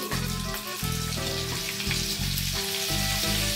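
Butter with a little white oil sizzles in a pan for frying eggs, giving a steady close crackle, with a low hum and a faint tonal buzz running throughout.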